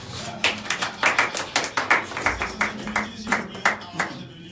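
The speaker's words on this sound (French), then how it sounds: "les gros applaudissements pour lui en studio, s'il vous plaît" Applause in a radio studio from a small group, heard as distinct rhythmic claps with a slightly uneven pulse, close and moderately loud.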